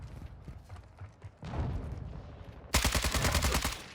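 Gunfire in Call of Duty: Modern Warfare 2, scattered shots building into a loud, rapid automatic burst that ends the moment, close and harsh with some background combat noise.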